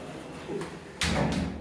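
Doors of a lift in a shopping centre slide shut, a soft rolling movement followed by a firm thud as they meet, close by.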